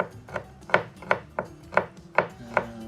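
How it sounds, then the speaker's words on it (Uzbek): Garlic cloves chopped with a knife on a board in a home kitchen, about seven crisp, evenly spaced cuts at a steady rhythm, close and clear with no talking. "chesnoklarni to'g'rashni boshlaymiz."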